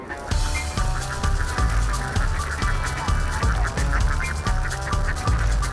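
A large flock of Tegal ducks quacks nonstop as it is herded home along the coast, a dense, rhythmic chorus of overlapping calls close by.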